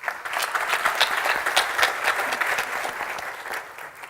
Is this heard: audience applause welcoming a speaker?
yes